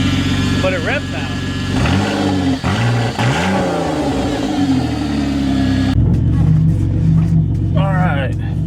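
Engine of a 2001 Ford Escape revving up and down steadily in loud rising and falling sweeps, with a voice talking over the running motor.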